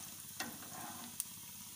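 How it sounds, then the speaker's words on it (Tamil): Cumin and black pepper sizzle in hot oil in a pan while a fish curry is being made, a steady close frying hiss with a couple of sharp crackles and a stir, no voices. "எண்ணெய் சூடாயிருச்சு, இதிலே நம்ம சீரகம் மிளகு போட்டுக்கலாம்."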